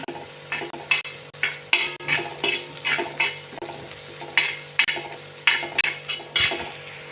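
A spoon stirs a dry stuffing powder with salt and chili powder as it fries in a pan for stuffed bitter gourd. Steady sizzling runs under rhythmic scraping strokes, roughly two per second, close and fairly loud.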